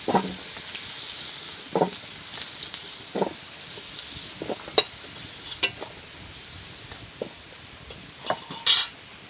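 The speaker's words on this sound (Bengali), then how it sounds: "এই দেখো খুব সুন্দর করে কিন্তু আলুগুলো ভেজে নিলাম।" Potato pieces fry in hot oil for a village-style desi chicken recipe, giving a close, steady crackle. A spatula scrapes and knocks against the pan at irregular intervals.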